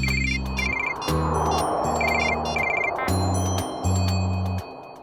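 A phone rings while someone calls an ambulance driver, with a repeating electronic ringtone pattern in short bursts over a busy, noisy background with no speech.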